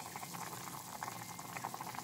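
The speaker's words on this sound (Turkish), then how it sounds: "Şimdi altını açalım. Kaynamaya başlasın." Meat broth for a baby soup meant to ease constipation boils in a pot, a steady, close bubbling and churning that holds at an even level for the whole stretch with no voices.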